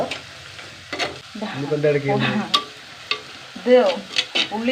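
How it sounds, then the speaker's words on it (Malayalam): Onions sautéing in a pan for a soya curry, with a steady close sizzle and scraping stirs of a spoon; a few faint voices come and go underneath. "നന്നായി വഴറ്റിട്ടോ ഉള്ളി നന്നായി വഴറ്റിട്ടോ"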